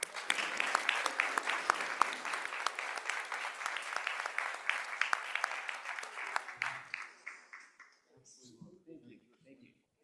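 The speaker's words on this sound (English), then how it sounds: "Give him another round of applause." A school board meeting audience gives a dense round of applause that carries for several seconds and then tapers off, with faint voices once it ends.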